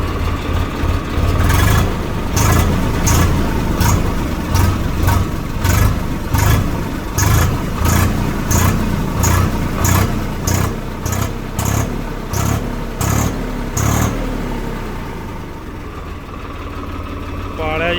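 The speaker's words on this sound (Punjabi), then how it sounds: "ਲੋ ਜੀ ਟਰੈਕਟਰ ਹੋ ਗਿਆ ਸਟਾਰਟ" A loud Swaraj 855 tractor engine runs steadily throughout with a rhythmic chugging pulse, close by, easing off toward the end; a voice speaks briefly over it.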